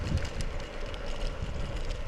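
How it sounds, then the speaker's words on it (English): Low, rumbling wind buffeting a microphone during an e-scooter ride, a steady muffled roar with no voices. "right now it's really windy"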